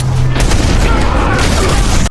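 Rifle fire in a film scene erupts as a loud, dense burst of booming blasts that fills the whole stretch before cutting off abruptly.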